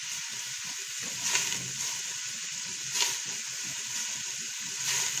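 Chicken pieces sizzle gently in oil in a large pot while cooking Saudi chicken kabsa, lightly searing without browning, with a steady soft hiss and a few brief stirring scrapes.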